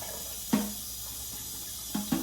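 A spoon with a little guacamole on it gets a quick rinse under a running kitchen tap, a steady soft stream of water broken by a few short splashy bursts as the spoon moves through it.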